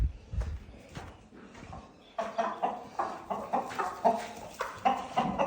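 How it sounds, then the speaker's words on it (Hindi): Chickens on a farm clucking in a steady run of short, repeated calls, fairly close and moderately loud, with some quieter rustling before the clucks start. "किधर गए मुर्गियाँ, डर कर सारी अंदर आ गई हैं।"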